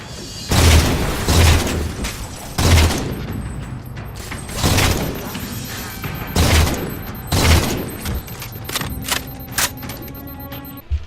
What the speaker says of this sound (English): Oh, I tried throwing some grenades.